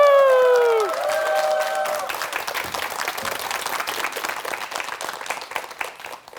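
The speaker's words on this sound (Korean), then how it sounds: "큰 박수 부탁합니다." A televised lecture audience gives continuous applause welcoming a rehabilitation trainer to the stage, steady clapping with light cheering, after a fading musical sting at the start.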